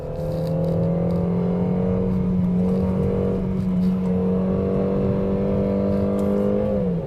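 Peugeot 3008 engine pulling hard uphill on a steep mountain road, revs climbing in a steady drone before dropping as the automatic gearbox shifts up near the end, loud and close with no talking.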